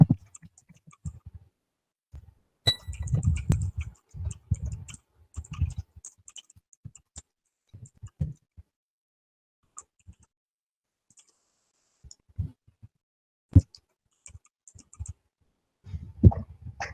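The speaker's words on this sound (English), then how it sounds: "I'm just clicking add." Sharp mouse clicks while working in the Zoho Cliq platform interface, scattered in short irregular bursts with gaps of near silence between, close and fairly quiet, with no voices.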